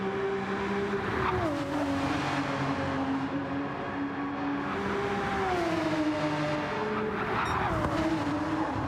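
Race cars tearing around Mount Panorama in a racing video game, engines droning loud and continuous with pitch rising and falling through gear changes and corners, a tyre squeal breaking in near the end.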